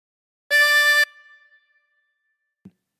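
A single drawn note on a 24-hole tremolo harmonica, inhaled through hole 10, rings clear and reedy for about half a second and fades quickly, followed by a small soft thump.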